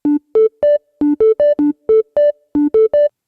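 Soloed synth pad from a main patch, heard alone as a rhythmic pattern of short, evenly gated tonal stabs in groups of three rising notes, repeating across the clip with brief gaps.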